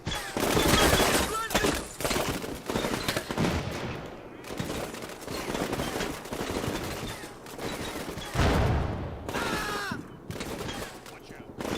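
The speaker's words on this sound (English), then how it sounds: "Massive amount of gunfire." Heavy bursts of rapid gunfire and explosions crackle almost nonstop in the game Combat Mission: Black Sea, loud and dense, with voices talking over the shooting.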